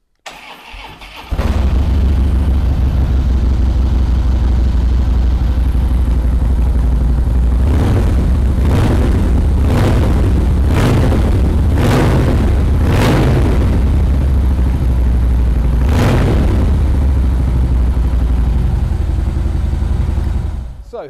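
Harley-Davidson Fat Boy 103 Softail cruiser with a Stage 2 setup cranks and fires up, then idles with a deep, loud rumble punctuated by several sharp throttle blips, running continuously until near the end.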